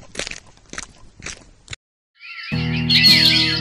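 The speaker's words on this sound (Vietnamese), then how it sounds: "Chim đang hót cho tôi nghe đó." Cartoon birds chirp and twitter in a bright, busy burst following a few sharp crunchy taps, their song continuing loudly to the end.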